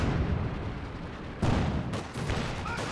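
Katyusha rocket artillery strikes in Company of Heroes 2 rumble continuously, with a sharper blast landing partway through and another close behind, dense and loud with no talk.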